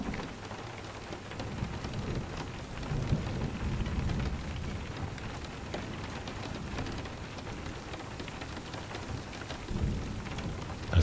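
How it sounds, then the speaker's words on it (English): Steady rain falls throughout a thunderstorm, with low thunder rumbling softly beneath the downpour and swelling in a few places, one rumble near the end. Nobody speaks. "As the sound of each rumble of thunder fades off and away"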